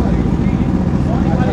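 A vehicle's exhaust tip gives off a loud, steady low rumble close by, a continuous throaty drone with no clear breaks or rev changes over a brief span.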